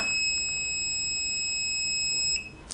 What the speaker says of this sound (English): when you see that cook and hear that beep, it means it's ready to start cooking